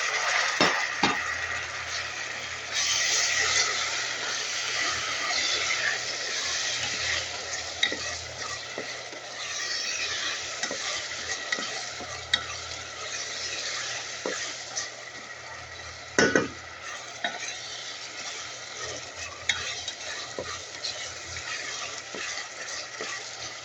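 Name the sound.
tomatoes frying with browned onions in a pan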